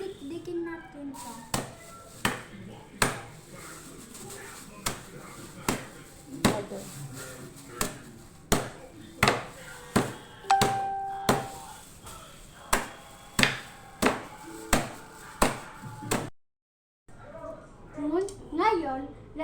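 Ingredients for an organic pesticide are pounded inside a plastic bag, giving a steady series of sharp, close thumps about once a second, with a brief pause before the end.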